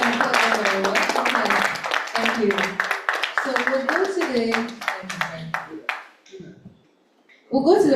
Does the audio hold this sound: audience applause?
yes